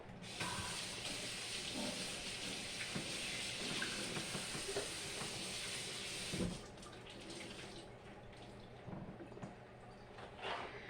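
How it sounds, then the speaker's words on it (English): A Ball jam and jelly maker stirs a batch of plum jam, giving a steady watery churning and bubbling wash that runs continuously and then eases slightly in the last few seconds. "I like this, how it kind of just like stirs everything and just makes everything so nice"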